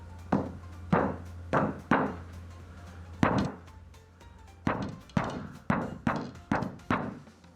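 A Pearl Session Studio Select drum head being tapped gives a series of dull, short thuds with a fairly dead, muted tone: a few spaced hits, a pause, then a quicker run of taps, close and clear.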